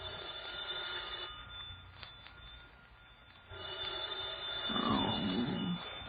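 A telephone rings in an old radio drama, the low-fidelity ringing coming in bursts with a pause between, followed by a rising noisy swell near the end.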